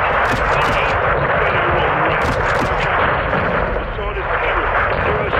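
Heavy battlefield gunfire and explosions in Call of Duty: Modern Warfare II, a loud, relentless wall of shots and blasts with a voice shouting over the din.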